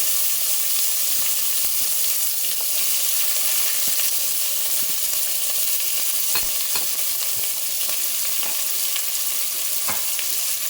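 Steady, loud sizzling of shallots frying in oil, a continuous crackling hiss with occasional pops and stirring clicks, no voices.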